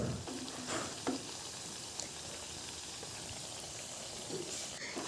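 Rice snack pieces frying in hot oil over a medium flame, a steady close sizzle with occasional scrapes and clinks as they are stirred, no talking.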